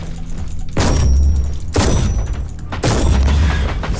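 A plasma gun fires in bursts against a dreadnought in Warhammer 40,000: Inquisitor - Martyr, three heavy booming discharges with sustained roaring tails, loud and close.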